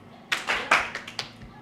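A bootcamp audience answers with a handful of scattered, quick handclaps, a few separate claps close together rather than one unified clap, heard faintly in the room.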